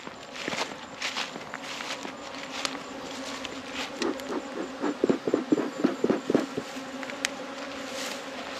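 A steady, low buzzing of many agitated honey bees hums throughout, with a cluster of sharper, pulsing buzzes swelling in the middle.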